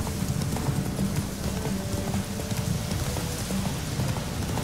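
Steady clip-clop of horse hooves in The Witcher 3 video game over a continuous rainy background hiss, moderately loud and even throughout.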